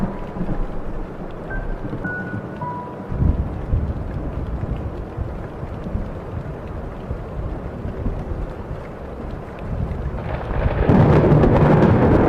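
Deep thunder rumbles through the spooky mansion of the video game Hypnagogia, a long rolling roar that swells louder near the end, with no voices.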